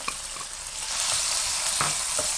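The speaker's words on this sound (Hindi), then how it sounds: "आप 4 खाने के चम्मच सॉस पैन में ऑयल डाल लें और चिकन को फ्राई करें।" Chicken fries in oil in a saucepan with a loud, steady hissing sizzle, a few sharp pops and stirring scrapes breaking through, close up and free of any talk.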